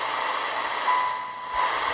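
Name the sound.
beep received on a $10 shortwave radio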